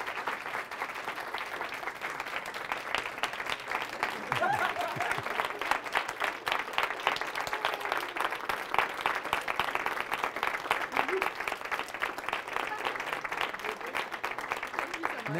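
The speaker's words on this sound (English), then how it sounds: "I think he definitely deserves another round of applause." Sustained audience applause after a final university lecture, dense steady clapping from a large crowd filling the room throughout, with a few voices faintly mixed in.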